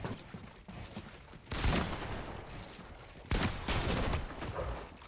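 Gunfire sounds in a multiplayer shooter played with friends, with bursts of rapid shots in two loud volleys separated by quieter mechanical clicking, all close and dense.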